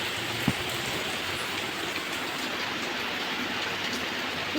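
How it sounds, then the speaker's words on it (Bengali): Dense, continuous downpour of heavy rain hissing steadily on surfaces nearby, with a single faint knock early on; no one speaks. "প্রচণ্ড বৃষ্টি দেখেছ এই ওই দিকটা দেখলে বুঝতে পারবে যে কতটা পরিমাণে বৃষ্টি হচ্ছে"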